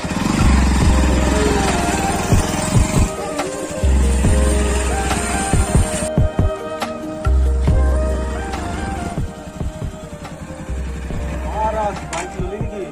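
A motorcycle engine runs close by with a steady low rumble that swells and dips over about thirteen seconds, while people talk over it.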